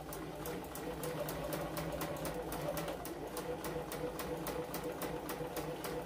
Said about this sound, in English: I'm making some basting stitches right here.